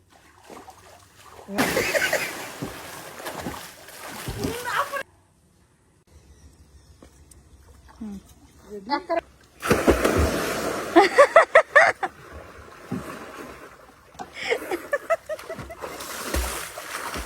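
Loud splashes and sloshing water come in bursts as someone jumps into a pond, separated by quieter stretches, with voices talking and shouting nearby.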